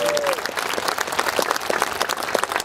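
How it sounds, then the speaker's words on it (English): A crowd at an outdoor mental-health awareness walk applauds steadily, dense clapping from many hands continuing throughout with some crowd voices mixed in. "I want to give Jim Bell a big round of applause"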